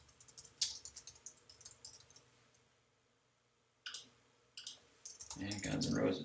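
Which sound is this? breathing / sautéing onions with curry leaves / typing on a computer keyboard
typing on a computer keyboard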